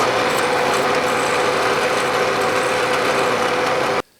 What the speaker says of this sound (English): I'm going to drill all the way through